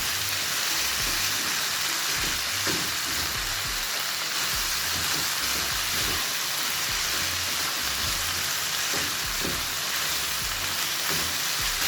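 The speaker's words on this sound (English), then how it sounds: "We are now going to stir fry." Cabbage, carrot, corn and green and red bell peppers stir frying in a pan give a loud, dense, continuous sizzle, with soft scraping and stirring clatter mixed in and no voices.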